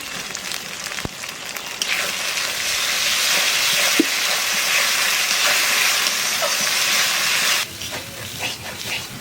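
Ginger-garlic and onion paste hits a hot pan for a country chicken curry, bursting into a loud, dense sizzling hiss that holds steady for several seconds before suddenly dropping away, with a few utensil knocks.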